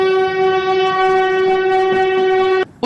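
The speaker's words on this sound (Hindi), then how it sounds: "देख ट्रेन आ गई" A train pulls into a station sounding a long, loud, steady horn blast that holds for nearly three seconds before cutting off abruptly.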